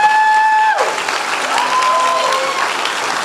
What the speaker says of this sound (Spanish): Un aplauso grande y fuerte